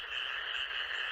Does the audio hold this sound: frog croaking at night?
yes